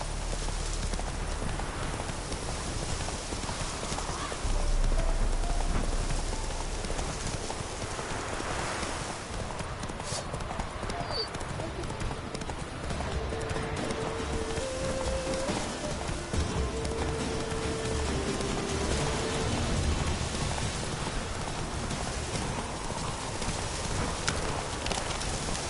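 Roach the horse's hooves in The Witcher 3, a steady rhythmic clip-clop of trotting over a continuous low game ambience, moderately close, lasting throughout with no talk.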